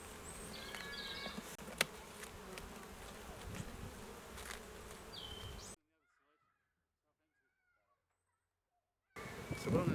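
Honey bees buzz around an open beehive, a close, steady droning hum with a sharp tap near the start, cut off by several seconds of silence before the buzzing resumes.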